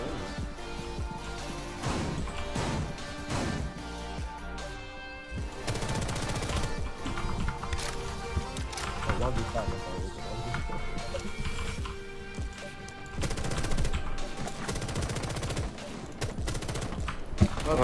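Rapid bursts of automatic gunfire and scattered single shots in a Rainbow Six Siege match, loud and continuous across the clip with brief lulls, alongside clatter and muffled game effects.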